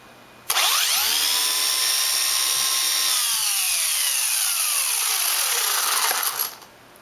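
A Turnigy 4WD 1/16 Monster Beatle RC truck's electric motor spins up on a 4S battery, a loud high-pitched whine that climbs sharply, holds steady at full speed for several seconds, then winds down at the end.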